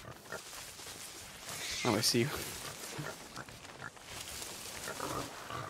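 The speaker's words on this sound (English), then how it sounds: "Oh, I got the pig! I got the pig!" A pig in the pirate video game Sea of Thieves gives a couple of grunting oinks in the middle of the stretch, mixed with game ambience while someone talks.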